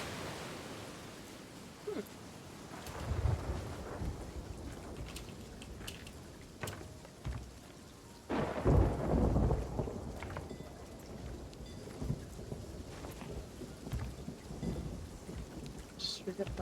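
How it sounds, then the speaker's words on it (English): A thunderstorm with rain rolls through the Sea of Thieves game world, steady rainfall hissing throughout while deep thunder rumbles swell at a few points, loudest near the middle. "with the other background noise masked by the storm,"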